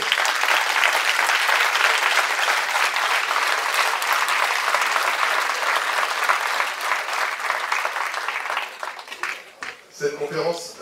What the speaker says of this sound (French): que je vous demande vraiment d'applaudir